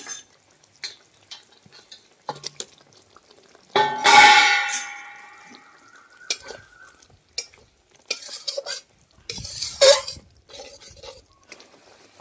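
Fried pointed gourd pieces go into a spiced pan with a loud burst of sizzling. Intermittent stirring scrapes and utensil clinks follow, and a second sizzling surge comes later.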